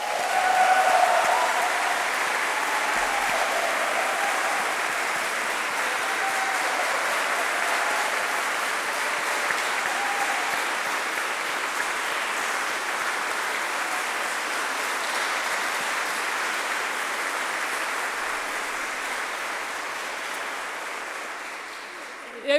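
Sustained audience applause following a church service concert of choral music, a dense even wash of many hands clapping for over twenty seconds, tapering slightly at the end, fairly near and loud.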